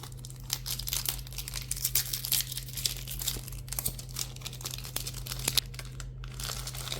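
A Pokémon card booster pack is torn and crinkled open up close, giving quiet, irregular crackles and rips over a steady low background hum.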